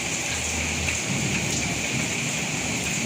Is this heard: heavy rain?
yes